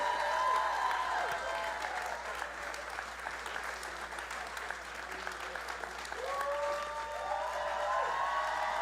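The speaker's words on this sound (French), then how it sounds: "prenez vos applaudissements, les filles." A live podcast audience applauds warmly and steadily for several seconds, a dense wash of clapping with a few cheers and voices mixed in before a fresh swell near the end.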